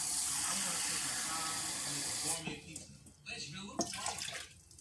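Water from a tap runs and pours into a cooking pan in a home kitchen, a steady rushing stream for a couple of seconds that then breaks off into shorter splashes, with a voice speaking briefly.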